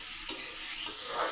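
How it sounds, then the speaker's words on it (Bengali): A spatula scrapes twice through chopped green chilli, onion and ground turmeric, chilli and coriander spices frying in a pan, each stroke cutting over a soft, steady sizzle. "একটু নাড়াচাড়া করে নিই।"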